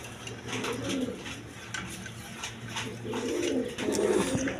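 Rajgolla pigeons in a loft, a young bird having picked up the male's call, give repeated throaty coos in soft bursts, fairly close and steady over a low background hum, with no talking.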